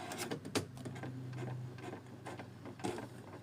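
An HP DeskJet Plus Ink Advantage 6475 printer's carriage shuttles along with a mechanical whir, a brief motor hum and a few clicks and clunks, heard up close with no talking.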